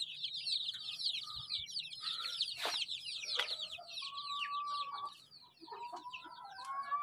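Bantam and heavy buff hens cluck and chatter close by, with a busy stream of overlapping calls, short squawks and a few longer drawn-out notes from several birds.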